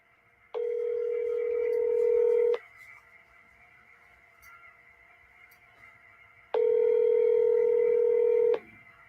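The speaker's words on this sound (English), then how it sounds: "It keeps ringing." A telephone rings out on a call, with two long, loud ring tones separated by a pause of several seconds and quiet line noise in between, with no voices.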